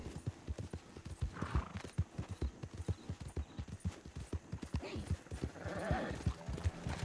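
Steady clip-clop of horse hooves at a walking pace in the video game Red Dead Redemption 2, close and fairly loud, with a brief whinny partway through and no talking.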